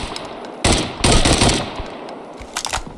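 Loud, close bursts of video game gunfire in Deadside, sharp volleys of shots with brief gaps between them, heard alone without talk.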